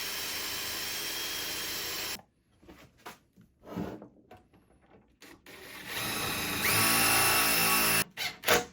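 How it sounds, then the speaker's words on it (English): A power drill bores a hole in wood for a baseball bat coffee table, with a loud steady whine before a quiet stretch of brief bumps, then the drill spins up again and stops with short bursts at the end. "I'm going to go ahead and make a drill hole"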